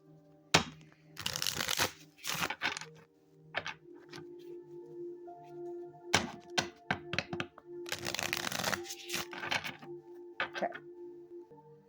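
Tarot cards being shuffled by hand, several quick riffling bursts and card slaps separated by pauses, close and fairly quiet against a faint background.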